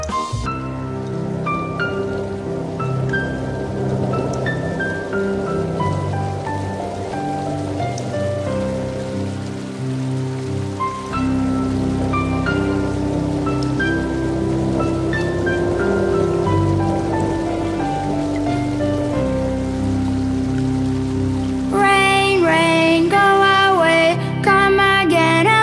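Steady rain patters across the whole stretch beneath a bright, plinking children's melody that keeps playing throughout, with the tune growing livelier near the end.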